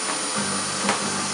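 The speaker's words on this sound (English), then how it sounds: "Today it's my turn to vacuum." A household vacuum cleaner runs steadily indoors in a family home in Afghanistan, a continuous broadband whir at moderate, close level with a small surge near the end.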